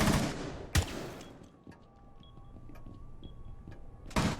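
SMG 11 fire in Rainbow Six Siege, with a loud short burst at the start, a single sharp shot, a quieter stretch of faint ticks and tones, then another burst at the end.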